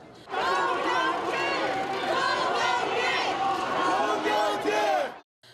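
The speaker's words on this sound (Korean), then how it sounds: "지지자들이 송영길 전 민주당 대표가 모습을 드러내자 연신 환호성을 지릅니다." A crowd of political supporters cheers and shouts loudly and continuously as a former party leader appears, voices overlapping in a sustained roar before cutting off abruptly.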